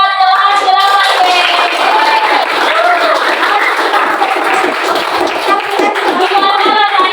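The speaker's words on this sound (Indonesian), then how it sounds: "tepuk tangan buat kelas 8B." Students in an Indonesian middle-school classroom clap their hands for their class, a steady close burst of clapping with voices and chatter mixed throughout.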